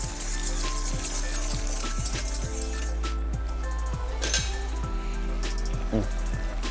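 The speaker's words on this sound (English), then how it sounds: "That's our cue to add the next ladle." A ladle of stock poured onto risotto rice in a hot pan, a loud, close, continuous sizzle with a few clinks of utensil against the pan and no talking.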